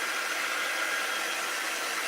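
A dryer blows a steady, even rush of air over a watercolor pumpkin craft, a close, loud hiss that holds without a break from start to finish.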